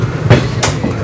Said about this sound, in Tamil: நம்ம ட்ரெயின் சேலம் ஜங்ஷன் கிராஸ் பண்ணிட்டு இருக்குங்க